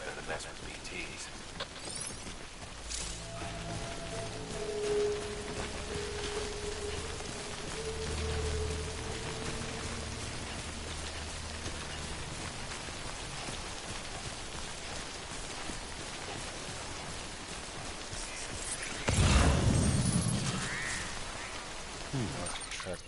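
Steady rain patters across the ground in the video game Death Stranding, a constant even hiss with a brief louder splash near the end, while a voice talks over it.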